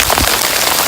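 Hail pouring down on a hiker on the Appalachian Trail in the Roan Highlands: a loud, dense, close patter of pellets striking surfaces, with no talk.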